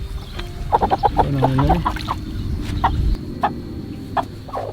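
Broody hens cluck and squawk in short agitated bursts while being picked up and handled, close by, with a person's brief speech and handling noises mixed in.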